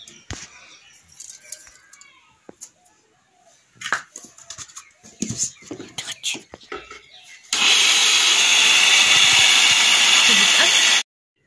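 Talk and clattering at first, then an electric mixer grinder roars loudly and steadily for a few seconds, grinding soaked rice into flour in a village kitchen, and then cuts off abruptly.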